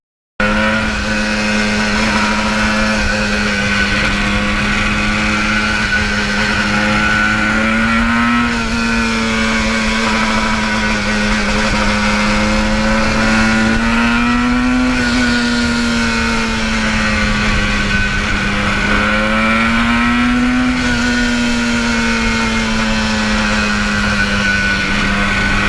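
A 1977 Yamaha RD400 two-stroke motorcycle riding at steady cruise, a loud, close, continuous engine drone with gentle rises and dips in pitch, no talk.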